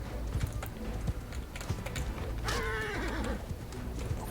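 Horse neighing after being slapped in Mount & Blade II: Bannerlord, one loud whinny in the middle amid clip-clop hooves and keyboard clatter.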